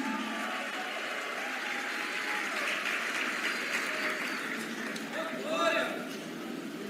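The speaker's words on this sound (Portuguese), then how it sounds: "Dê um aplauso," Congregation applauding in a church service, a steady dense roll of clapping that fills the whole stretch without a break, with faint voices underneath.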